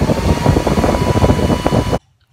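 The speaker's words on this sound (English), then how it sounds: "put your hairdryer on high" Handheld hairdryer blowing steadily on its high setting, a loud, continuous broadband whoosh with motor hum for about two seconds before it cuts off abruptly into near silence.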